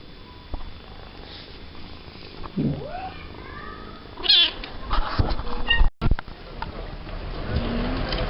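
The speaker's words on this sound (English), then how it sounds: "Kitty, listen to him purring." A rescued kitten heard up close with a low, soft purr running under a few short meows, mixed with handling noises and a brief break in the sound.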